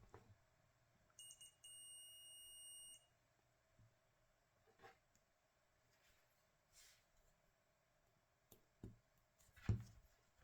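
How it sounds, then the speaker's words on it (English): A multimeter emits a single sustained continuity beep of about two seconds while testing Bafang e-bike battery connector wires, quiet and close, followed by scattered handling clicks and taps. "Hope you hear the sound of my multimeter."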